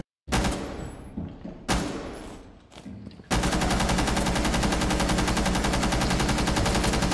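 Rainbow Six video game gunfire: two separate loud bursts of shots with short gaps, then sustained rapid automatic fire that continues evenly to the end.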